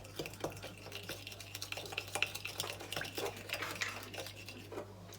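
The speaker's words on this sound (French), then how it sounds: "On mélange correctement afin d'incorporer le sel, le sucre et le vinaigre de riz." Rice vinegar, salt and sugar being stirred in a bowl for sushi rice, with a utensil scraping and clinking steadily against the sides in quick irregular strokes over a low steady hum.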